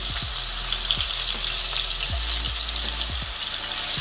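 About ten shrimp frying in hot oil for crispy Southern-style fried shrimp, a dense continuous crackling sizzle, close and steady, with faint low thumps underneath.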